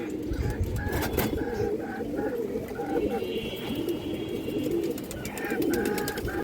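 A pair of Pakistani-line pigeons, masala red with gear markings, coo in low rolling bursts throughout, close by, with faint higher chirps and background noise.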